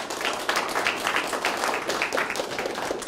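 An event audience applauds the organizers with steady, dense clapping from many hands for about three seconds, moderately loud and close, with no talking.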